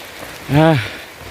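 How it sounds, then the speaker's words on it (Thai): Steady rain falls across a mountain valley trail in cold weather, a constant broadband patter with a single short voiced sound rising briefly over it midway. "ท่ามกลางฝนตกเลยครับตอนนี้ตกทั้งวันอากาศหนาวมาก"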